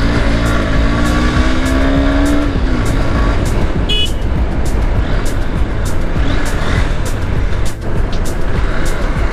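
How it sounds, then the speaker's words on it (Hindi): Heavy road traffic jam heard from a Honda CB200X motorcycle: a steady, close engine and traffic rumble throughout, with a brief horn-like tone early on. "बड़ा ख़तरनाक जाम है यार इधर"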